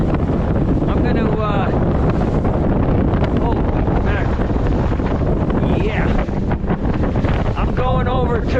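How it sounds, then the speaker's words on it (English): Strong wind buffets the microphone steadily while fishing from a boat on Fort Peck, a loud continuous roar with water sloshing and faint speech-like bits in between. "I wish it wasn't so windy"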